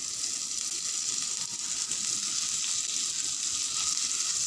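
Butter sizzles on a hot dosa griddle as a steady, even hiss with a soft crackle, close and unbroken, with no voices.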